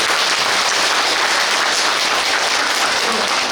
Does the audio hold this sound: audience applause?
yes